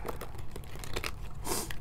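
Tarot cards are shuffled by hand on a person sitting on the floor, giving quick, close crinkly riffles and soft papery flutters in short bursts.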